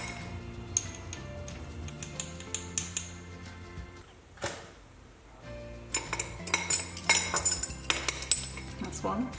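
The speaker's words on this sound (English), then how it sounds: "Teaspoons of ground ginger. Measure out 2 teaspoons." Metal teaspoons clink and tick against each other and a bowl as ground ginger is measured out for gingerbread, giving sharp, scattered clinks. A quiet pause falls midway, then a denser run of taps follows.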